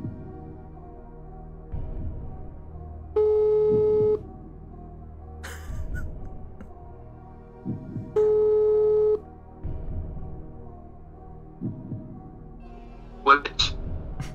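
A telephone ringback tone sounds twice in long steady beeps while calling a friend on a TV quiz show, separated by a pause, with quiet voices and studio noise around them.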